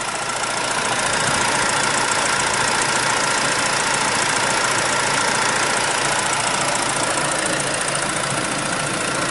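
A 2010 BMW 320i E90 LCI with the N46 engine idles in a steady, unbroken hum with a faint ticking texture. It is loud and close throughout, and no one speaks.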